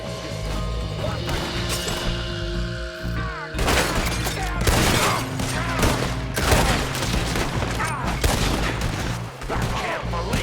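Rapid volleys of gunfire from a Red Dead Redemption 2 shootout, a dense fusillade of loud, close shots and cracks that erupts after a quieter opening and keeps going to the end, over a low musical drone.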